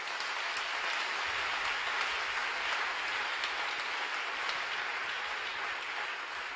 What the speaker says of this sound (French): j'aimerais qu'on les acclame très fort